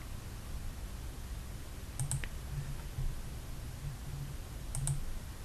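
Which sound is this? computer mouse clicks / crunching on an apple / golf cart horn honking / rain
computer mouse clicks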